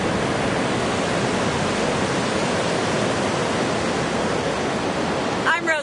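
Ocean surf at a beach in Del Mar, California, heard as a broad, continuous wash of breaking waves, loud and steady throughout, with a brief faint sound right at the end.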